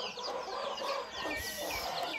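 Chickens cluck close by in a run of overlapping, repeated calls, with no talking.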